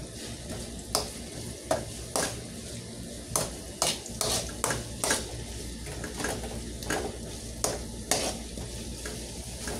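Bitter gourd (ampalaya) with egg sizzles in a pan while a utensil stirs and scrapes, giving sharp intermittent clinks over a constant soft frying hiss, close and without speech.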